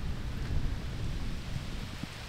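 Thunder rumbles low and continuous during a heavy storm while camping in Croatia, with steady rain hissing over it and no one speaking.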